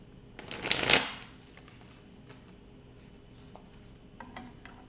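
A deck of tarot cards is riffled in one loud, quick shuffle burst near the start, followed by softer handling, taps and card rustles, with no talking.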